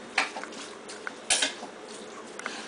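A spoon mixes red kidney beans and onions in a pot, giving a few soft clinks and scrapes against the pot over a quiet kitchen background, with no talking.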